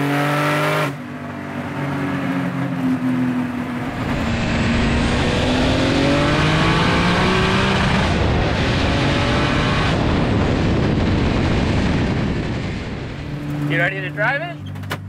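A Mustang fitted with an R32 GT-R engine and turbos revs hard and loud up close, rising and swelling into a sustained roar for over ten seconds, with voices briefly heard near the end.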